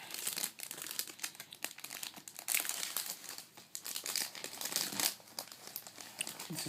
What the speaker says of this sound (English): now we're going to open the heat pack up